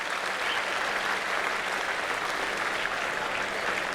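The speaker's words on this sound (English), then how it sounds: "Please give a round of applause for that." Sustained audience applause fills a hall at a college annual day event, a dense, steady wash of many hands clapping at even loudness throughout, with no voices rising above it.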